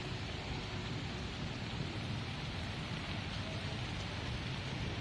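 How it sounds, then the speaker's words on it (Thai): Steady rain falls on a canal in a constant, even hiss, dense and unbroken from start to finish, with no voices. "ครับพี่น้องฝนตก"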